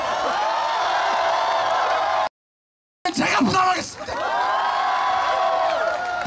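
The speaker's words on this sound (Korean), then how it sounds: "별거 아닌데 환호성 질러주시니 감사해요" A large crowd at a street protest rally in Seoul, demanding Park Geun-hye's resignation, cheers and whoops loudly. A brief gap of silence is followed by a burst of shouting, and then the sustained roar continues.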